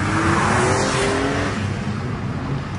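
A 2021 Porsche 911 Turbo S engine revs loudly and continuously with its exhaust flaps open, its deep exhaust roar rising and holding steady with no talking.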